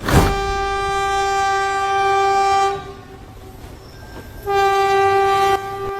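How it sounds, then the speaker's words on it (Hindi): A train arrives with a loud, close horn blast, a short pause, then a second long horn blast over a low rumble of rail noise. "अरे यार ट्रेन तो आ ही गई"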